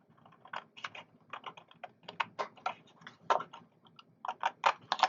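Scissors snipping through paper while trimming strips for a farmhouse-style kitchen recipe folder, a run of short crisp cuts in uneven bursts, close and moderately quiet, with no talking.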